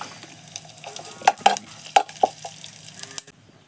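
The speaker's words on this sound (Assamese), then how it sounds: "চব গুটি তাত ধুনীয়াকৈ ভাজি ল'ব লাগিব এতিয়া" Nuts sizzling in melted ghee in a pan, with a steady soft frying hiss and several sharp clinks and scrapes of a utensil against the pan, no voices.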